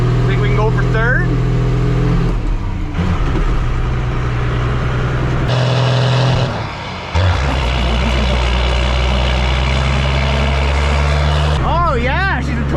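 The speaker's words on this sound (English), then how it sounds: "It still does a third gear burnout." A 1979 Ford truck with a naturally aspirated 12-valve engine does a third-gear burnout, a loud, sustained engine roar with tire squeal warbling over it, staying close and heavy throughout with a brief dip midway before surging again.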